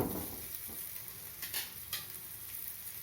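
Faint, steady sizzling of ragi and drumstick-leaf adai frying on a pan, with a few soft clicks and light scrapes of a utensil against it.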